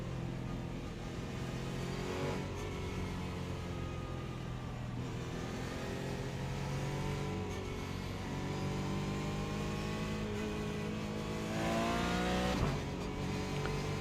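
Engine of a race car in the iRacing sim during a rolling start, droning steadily and climbing through revs again and again with gear shifts, loud and close with no talk over it.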